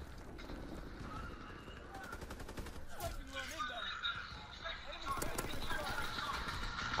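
Gunfire from Call of Duty WW2 multiplayer cracks in quick bursts and scattered single shots. The shots sound fairly faint and blend with other game effects and a player's voice.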